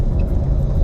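A loud, low engine rumble from an 810-horsepower Z06 drones steadily, close and heavy, with no voices.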